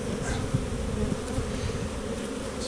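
Agitated honeybees buzz loudly from an opened hive during an early spring split, a dense, continuous drone close up with no talking.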